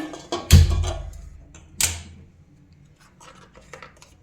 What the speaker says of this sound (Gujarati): ગેસ ચાલુ કરી દઈએ.